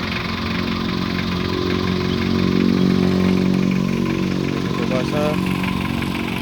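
A 2002 Mitsubishi L300 diesel engine with a 2018 upgraded Bosch injection pump idles with a steady, even low rumble throughout, close by and fairly loud, with a brief faint tone near the end.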